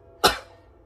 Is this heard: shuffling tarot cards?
no